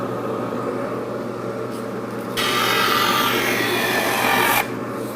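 A new power saw cutting wood, a steady mechanical whir under a sustained rasping cut that starts abruptly, holds loud and even for a couple of seconds, then stops back to the running motor.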